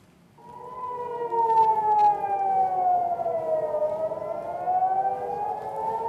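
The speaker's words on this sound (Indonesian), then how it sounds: "Sirene di kota Tel Aviv kembali berbunyi" A wailing air raid siren rises and falls slowly, carrying loudly over Tel Aviv, starting after a brief quiet moment.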